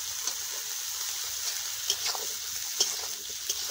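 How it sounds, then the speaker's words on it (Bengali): Cauliflower, potato and carrot pieces fry in hot oil in a pan with a steady bright sizzle and a few soft stirring knocks, close and alone. "এখন এগুলোকে ভালো করে ভেজে নেব।"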